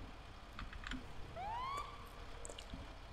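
A single short siren whoop from a police car in a roleplay video game rises quickly in pitch and then stops. It is faint and thin against quiet background noise.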